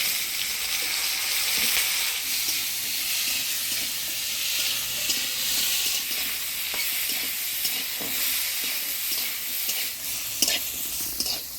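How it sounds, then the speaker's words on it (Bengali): Pointed gourd (potol) fries in hot oil with garlic and green chili, giving a loud, continuous sizzle, close up, with occasional stirring scrapes and clinks. "পটলটা আমি লাল লাল করে ভাজি নিয়েছি"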